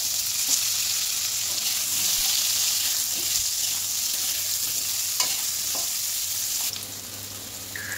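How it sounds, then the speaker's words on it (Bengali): Cut potato pieces frying in hot oil, a steady loud sizzle close by with occasional stirring scrapes, easing slightly near the end. "এবার এই তেলের মধ্যে আমি কেটে রাখা আলুর টুকরোগুলো দিয়ে ভালোভাবে একটু ভেজে নেব"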